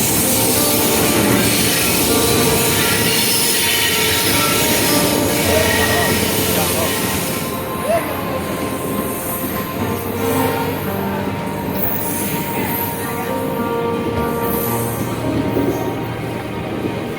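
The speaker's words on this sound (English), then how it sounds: "Train is coming." A train arriving at a station rumbles steadily close by, with faint wheel squeal and a continuous rolling roar that eases slightly partway through.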